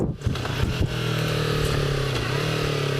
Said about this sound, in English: as you can hear it, rev matching, downshifting into first from fifth, very, very smooth.